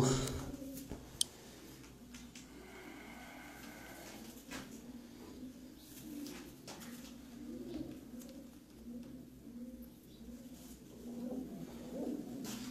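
Pigeons coo softly and steadily on a rooftop at a one-day pigeon tournament, a low, continuous murmur of calls with faint ambient noise and occasional sharp knocks.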